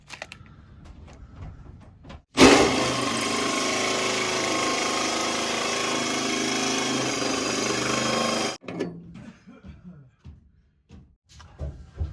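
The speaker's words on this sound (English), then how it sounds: "what I'm doing now is drilling ventilation holes across the front of the dormer wall" A power drill bores ventilation holes across the front of a dormer wall during a UK loft conversion, making one loud, steady whirring burst of about six seconds with faint knocks and handling noises before and after.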